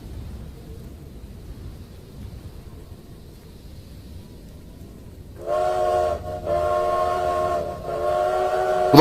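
Sleek locomotive in a snowy setting, low rumbling rolling noise followed by a loud multi-tone train horn blaring in long blasts with brief breaks.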